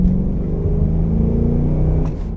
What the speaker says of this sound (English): And if we just dial up the revs,